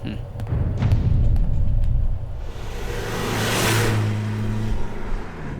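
A car drives close by with a rumbling, revving engine, then eases off and slows. A few thumps come early, and voices speak in the background.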